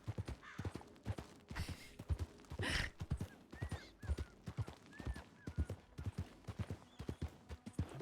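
Steady clip-clop of horse hooves in the roleplay game RedM, with a short whinny and a couple of snorts partway through, moderately close over soft ambient background, no voices.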